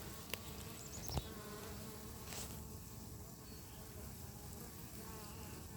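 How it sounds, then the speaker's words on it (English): Honeybees buzz around a newly set-up hive near pine trees, a faint, steady hum of many insects, with a couple of brief clicks near the start. "Take another look at the bees"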